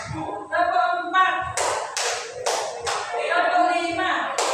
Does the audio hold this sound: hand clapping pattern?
yes